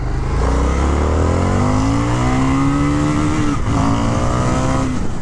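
A 2023 Indian FTR R Carbon 1200 motorcycle pulls hard at full throttle, its engine loud and close with a rising roar, a brief dip as it shifts, then climbing again.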